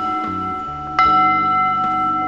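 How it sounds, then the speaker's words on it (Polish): A church altar gong is struck once about a second in, ringing out with a bright metallic attack and a sustained shimmering tone that fades slowly, alone with no voices. "bo nazywa się gong. Brzmi mniej więcej tak."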